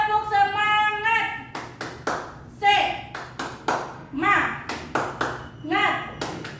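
A class of fifth-grade pupils at an elementary school claps a rhythmic 'tepuk semangat' spirit pattern, sharp clustered claps in quick patterned bursts alternating with a woman's sung or chanted voice, close and lively in a classroom.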